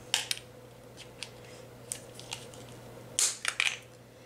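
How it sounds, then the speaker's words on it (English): Scissors snip off excess material from a Dollar Tree craft planter's edge, giving a few faint, short crisp cuts spaced apart, then a quicker cluster of snips near the end over a low steady hum. "then we're just going to take our scissors and snip off the"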